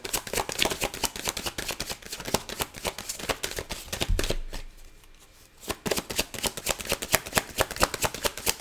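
A deck of oracle cards being shuffled by hand: rapid, dense riffling clatter that pauses briefly midway and then resumes, close and fairly loud, with no talking.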